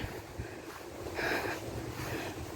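Strong wind gusts blow through an outdoor garden, a steady broadband rush that swells louder for a moment midway, with no talking.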